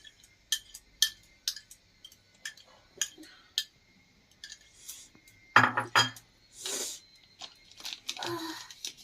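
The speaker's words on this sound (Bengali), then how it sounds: "200 গ্রাম যে টক দইটা নিয়েছিলাম ওটা ভালো করে ফেটিয়ে নিচ্ছি" A utensil whisks 200 g of sour yogurt in a bowl for Afghani chicken. Quick, irregular clinks and ticks strike the bowl at close range, with a louder scraping flurry about midway.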